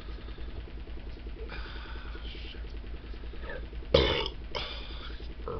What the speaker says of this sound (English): Burping.